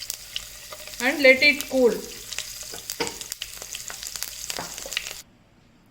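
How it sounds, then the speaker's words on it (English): Mustard seeds splatter in hot oil for a pickle, a dense crackle of quick pops close by, with a voice speaking briefly over the early part before the sound stops. "Now the mustard seeds are splattering"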